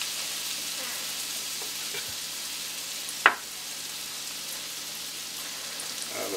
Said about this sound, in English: throw it into the pan and let that brown a little bit in the butter